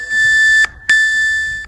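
A workout interval timer sounds two loud, clear electronic beeps, one long tone, a short gap, then a second long tone.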